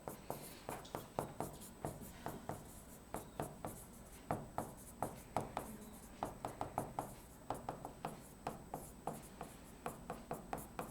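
Numbers being written by hand during a chemistry lesson on significant figures, a steady run of short scratchy strokes in quick irregular rhythm, close and clear with no talking.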